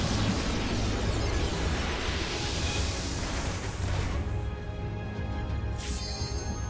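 A massive explosion in the Final Fantasy XIV Eden Gate: Resurrection raid roars as a dense, loud, sustained blast with deep rumble, easing slightly toward the end.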